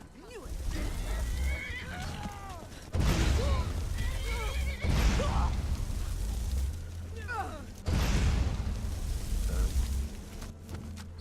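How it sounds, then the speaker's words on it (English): Horse whinnies and cries in Skyrim as it comes under attack, rising above a busy, loud game soundscape with heavy low rumbling bursts; a voice talks over much of it. "Other than my horse getting attacked."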